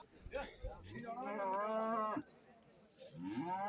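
Bulls at a cattle market give a long, drawn-out moo close by, then a second low call begins after a short pause. Faint background noise lies underneath.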